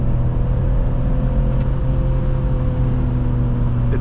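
A 2006 BMW X3 3.0i inline-six under throttle, heard from inside the cabin as a steady, loud low engine drone with road rumble, holding an even pitch with no talking.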